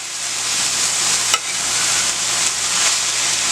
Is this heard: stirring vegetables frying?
yes